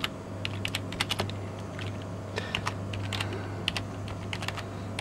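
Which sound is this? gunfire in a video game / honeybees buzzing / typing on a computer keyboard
typing on a computer keyboard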